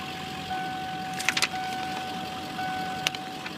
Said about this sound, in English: Driver window, passenger window, passenger rear window,